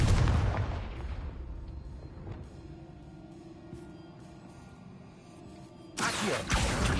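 A loud booming blast from the Confringo spell in Hogwarts Legacy opens with a heavy impact that rumbles and fades, and then a second sharp burst hits near the end.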